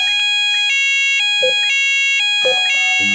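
A fire alarm sounds inside an Asda supermarket: loud, piercing electronic tones repeat in a regular on-off pattern, ringing through the store's open space.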